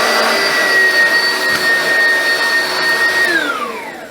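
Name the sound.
Oreck XL Classic upright vacuum cleaner running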